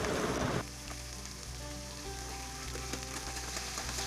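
Drumsticks added to frying onion gravy for sambar, opening with a loud burst of sizzle that quickly settles into a quieter, steady crackling fry.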